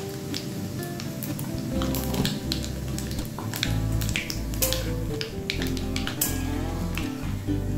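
Nigella seeds (black cumin) crackling and sizzling in hot oil while making lemon pickle, a steady dense fizz with sharp snapping pops scattered throughout, close and fairly loud, with no talking.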